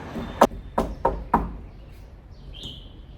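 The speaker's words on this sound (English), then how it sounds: "Who knocked on that door?" Four sharp knocks on a door ring out in a quick, slightly uneven sequence, close and crisp, followed by a faint high chirp afterward.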